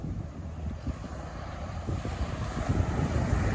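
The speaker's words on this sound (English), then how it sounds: "The wind's starting to pick up." Steady wind at Ormond Beach, Florida, roars and rumbles into the microphone over the surf. It grows slightly stronger toward the end, with no speech.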